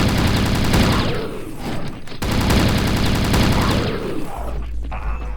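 A big gun in Chasm: The Rift pounds out dense, rapid bursts of fire with a short pause in between, loud and continuous, and ends in a low rumble.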